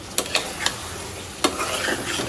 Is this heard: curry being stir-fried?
yes